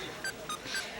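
A pocket cell phone ringing in a school locker hallway, a few short high electronic tone blips repeating in quick succession over faint room noise, no voices.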